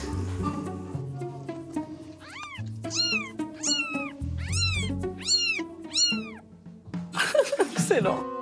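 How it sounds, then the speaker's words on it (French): Newborn kittens meowing indoors, a run of high, thin, repeated mews close by, with someone speaking French and a voice at times beneath the cries. "On va regarder les bébés chats qui sont nés."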